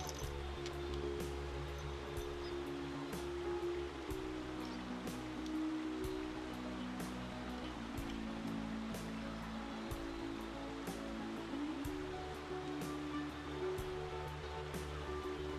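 Water of a river or stream flowing steadily over rocks, a continuous broadband rush with no talk, heard close and at an even level throughout.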